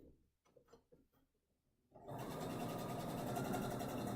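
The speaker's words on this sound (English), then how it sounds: "sew a nice even seam with my 1/4 inch guide" A sewing machine starts after a few soft handling taps and runs steadily, stitching a quarter-inch seam on quilt block fabric with a loud, even, continuous mechanical whir close by.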